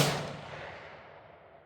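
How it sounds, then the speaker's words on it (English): A single rifle shot from a Ruger .22 Creedmoor fires with a sharp, loud crack at the onset, then a long, broad echo rolls away and fades over more than a second, with no voices. "Third shot was right on top of the first one"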